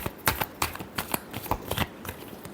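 A deck of tarot cards is shuffled close up, making a quick run of crisp riffling clicks and slaps in an uneven rhythm with no talk.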